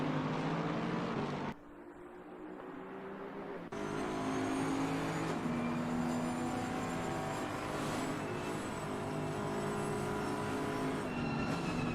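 Several race car engines in a sim racing game at Zandvoort drone continuously and loudly, with rising and falling engine pitch as cars lift and feather the throttle through fast corners, with a brief drop in intensity early on.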